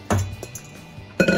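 Chocolate pecan cookie dough mixed in a bowl, heard as two bursts of clinking and scraping of utensil against bowl with a lighter knock between, close and moderately loud.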